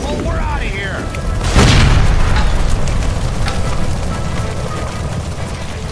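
Gas line blowing up inside a room in L.A. Noire, a sudden loud boom that rolls into a sustained roaring rumble, with voices talking around it.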